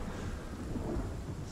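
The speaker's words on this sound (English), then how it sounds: "I'm thinking that the thunder is a little bit too loud for you guys." A low, sustained thunder rumble from the video game Project Zomboid rolls through with a steady wash of rain, fairly quiet and distant.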